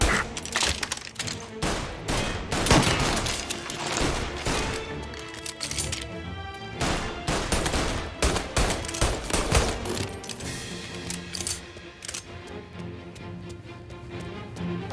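Rapid bursts of gunfire from the video game Mafia: Definitive Edition, loud and dense, with sharp cracks and automatic volleys repeating across the whole stretch.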